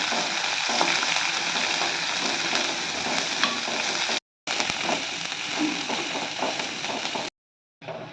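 Chopped shallots sizzle and crackle steadily in a hot pan with curry leaves, a dense frying hiss broken by a couple of short silent gaps.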